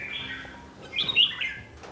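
A pet songbird, a Vietnamese fighting bird, chirps in a series of bright, high tweets and short warbling calls, close and clear over a quiet background, with a louder burst of notes midway.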